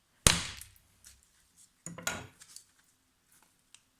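Two sharp knife-edge strikes into a coconut with a Survive GSO 4.7 or Fallkniven S1 blade, each a bright clattering impact with a short ringing tail, a second apart, followed by a few faint small knocks.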